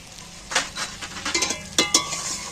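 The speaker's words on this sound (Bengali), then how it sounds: "একই সাথে একটু নাড়াচাড়া করে ভেজে নেব।" Egg masoor dal sprinkled with chili powder is stirred and fried in a pan, soft sizzling beneath a series of scraping spoon strokes and light clinks against the pan, close and fairly quiet.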